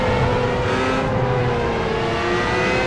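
Formula A open-wheel race car in Project CARS at Silverstone, a steady loud engine drone holding high revs throughout with a tonal whine, continuous and close with no talk over it.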